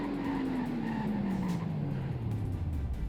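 A 2022 GMC Hummer EV Pickup, an electric truck, braking hard: a steady electric motor whine slides downward in pitch over a few seconds amid broadband road and tire noise, fairly close with no talking.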